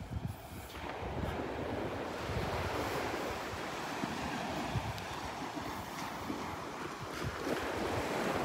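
Ocean surf and steady wind on Delnor-Wiggins beach on a blue-sky morning, a continuous loud wash of breaking waves mixed with rumbling wind buffeting the microphone, with no voices.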